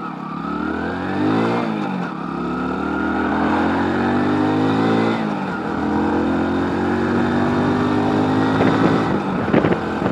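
Engine of a 2024 Hero Passion Plus motorcycle revving up and shifting through the gears on a ride with a pillion, rising pitch sweeps repeating near and loud over steady wind noise.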